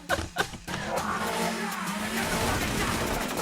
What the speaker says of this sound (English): There's our car chase.